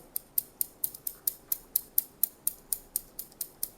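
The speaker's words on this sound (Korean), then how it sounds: "그 다음에 가위로 빗에 걸리는 머리만 다 잘라주시는 거세요" Scissors snip hair along a comb during a men's short haircut, a steady series of about fifteen crisp, evenly spaced metallic clicks, close and clear with no voices.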